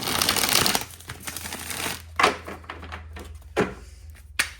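A deck of tarot cards being shuffled for a reading: a dense riffling burst at first, then a few sharp separate slaps and riffles spaced about a second apart, close by with no talk.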